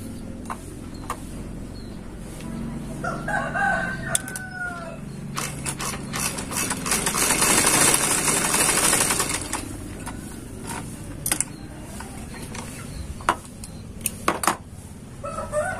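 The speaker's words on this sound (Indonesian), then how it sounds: "akan saya jahit 1 lapis saja teman-teman" A sewing machine with a skipping-stitch fault stitches a single layer of very stretchy fabric. Intermittent clicks and taps build into a louder continuous run of stitching in the middle, then fade back to scattered clicks.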